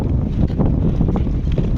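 Strong wind buffets and rumbles across the microphone in continuous low gusts at a riverside viewpoint near Gautameshwar Mahadev, Sihor, loud and close, with no one speaking.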